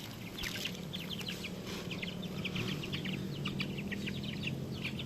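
Native chickens with growing chicks and a mother hen cluck and peep in rapid, busy bursts throughout, a close, continuous flock chatter over faint background noise with no talking.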